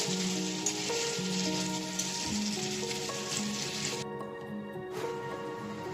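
Mutton sizzles and fries steadily in an open pan over a medium flame for an Odia-style mutton curry, a continuous close crackle with faint stirring throughout.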